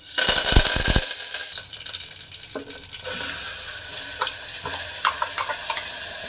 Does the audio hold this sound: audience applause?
no